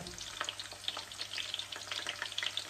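Squid sizzles and crackles steadily in a hot pan for adobo, a dense bright frying hiss with frequent small pops and spatters, close and continuous with no talking.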